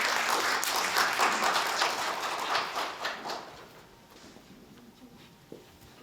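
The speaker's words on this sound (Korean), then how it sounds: "박수 부탁드립니다." Audience applause at an award ceremony for a unification culture festival, a dense wash of clapping that gradually thins and fades to a few scattered claps.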